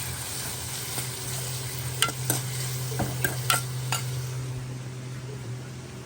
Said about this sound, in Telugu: కొంచెం సాల్ట్ వేసుకుంటే తొందరగా మగ్గుతుంది అని చెప్పి అల్లుల్లిపాయ కూడా వేసేస్తున్నాం ఫ్రై అయినాయి కాబట్టి